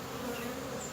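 Honeybees in a swarm moving down into a hive box give a dense, continuous buzzing hum, close and steady throughout with no pauses.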